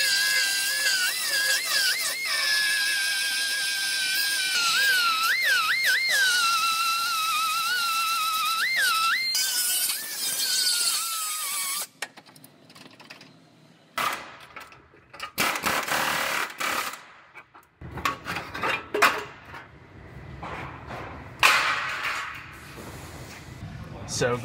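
Power tool cutting out the metal apron of a car body in a repair shop, a harsh buzzing grind that rises and falls in bursts after a steady whining stretch, loud and close with a voice talking at times.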